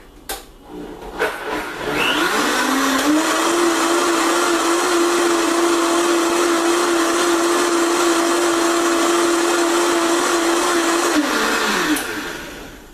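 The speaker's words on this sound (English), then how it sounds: "So now that I have those 2 ingredients in my blender, we're just going to blend it up real quick." Countertop blender running on water and almond butter, spinning up after a couple of seconds into a loud, steady whir that holds for about nine seconds before winding down and stopping.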